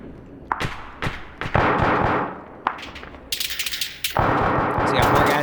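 Loud gunfire rips through an Arma 3 battle: several sharp single shots spaced apart, then dense rapid automatic bursts, some close and some farther off, with little talk.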